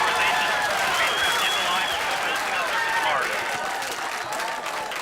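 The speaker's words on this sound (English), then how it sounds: "the crowd became overwhelmed with joy and excitement as success was evident" The crowd in Mission Control erupts at a Mars rover landing, with sustained applause and cheering filling the room, excited voices mixed in throughout.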